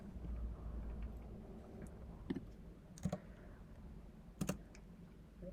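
Code being typed on a computer keyboard, a few sparse clicks and key taps at a quiet, close level over a low steady background hum, with no talking.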